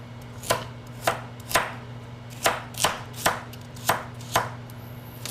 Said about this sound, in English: I like to cut them in half and then into quarters.